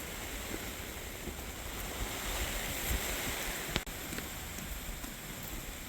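Heavy rain and gale-force wind batter a campsite, a dense, steady roar of rain and wind noise with a brief louder gust or knock near the middle.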